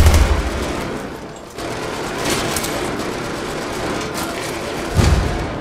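Rapid gunfire in the Battlefield 3 video game, a dense sustained barrage with heavier booms near the start and end, loud and continuous with no talking.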